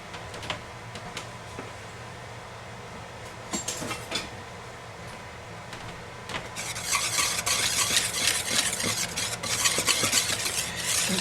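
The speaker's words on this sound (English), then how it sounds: "Make sure you get this all mixed in well so it's even" Flour, baking soda, baking powder, salt, cinnamon and nutmeg being mixed for apple cider donuts, quiet scattered taps at first, then brisk continuous whisking and scraping in a bowl, close and with no talk.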